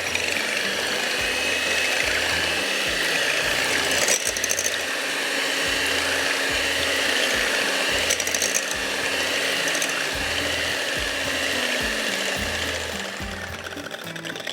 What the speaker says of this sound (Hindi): इसको हम ज़रा सा बीटर को चलाते हैं